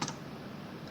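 Quick light keystrokes on a computer keyboard while entering HTML heading tags, a brief soft burst of clicks at the start fading into quiet room tone.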